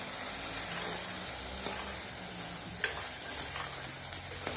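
Brinjal and valor beans sizzle in a frying pan with Kashmiri chilli, turmeric, coriander-cumin paste and salt while being stirred, a steady frying hiss broken by a few scraping knocks of the spoon.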